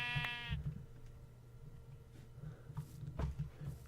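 A Minecraft farm animal gives a bleating, mooing-like call right at the start, followed by soft game noises and low rumbling, with no talk.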